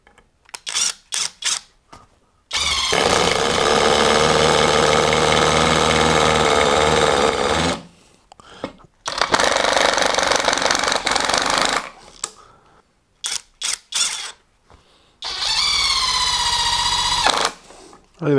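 A Uaoaii 650Nm impact wrench drives a fastener into soft pallet wood in three loud, sustained bursts of rapid hammering, separated by short pauses and brief handling clicks.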